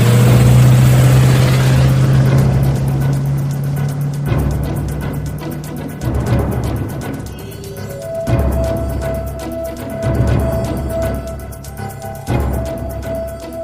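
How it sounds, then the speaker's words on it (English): Car engine starting and revving, a loud opening rumble followed by repeated throttle surges rising and falling, heard alone without talk. "Gentlemen, start your engine."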